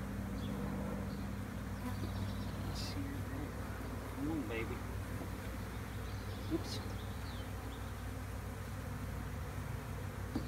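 Honeybees buzzing around a hive during nuc installation outdoors, a soft continuous hum with a few individual bees flying close past, faint and steady throughout.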